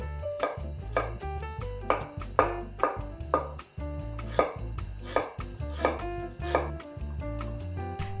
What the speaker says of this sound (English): Slice the garlic and ginger.